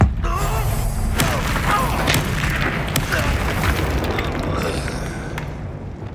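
A Bombarda spell explodes in Hogwarts Legacy with a heavy, rumbling boom and crackling debris that sustains loudly for several seconds before slowly fading, with a voice heard briefly.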